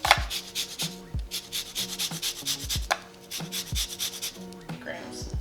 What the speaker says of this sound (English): the first thing we want to do for this blueberry compote is zest lemon